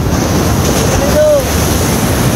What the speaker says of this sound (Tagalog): So malaking alon.